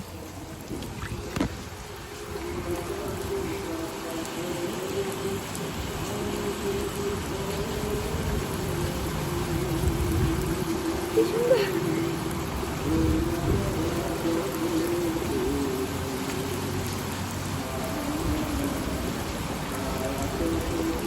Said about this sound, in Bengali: কি দারুণ বৃষ্টি হচ্ছে